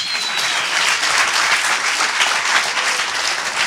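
Loud, sustained applause from a large studio audience at an Italian TV show, steady and unbroken throughout.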